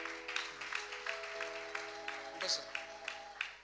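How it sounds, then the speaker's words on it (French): Congregation clapping loudly in a church at a Sunday service, a steady broadband patter of many hands over sustained keyboard or organ tones, without a break. "On acclame très très fort."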